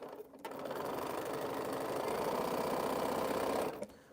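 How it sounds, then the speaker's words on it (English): A home sewing machine runs steadily for about three seconds while pieces of a Scattered Stars quilt are stitched, starting and stopping cleanly, loud and close with no talking. "I'm just sewing"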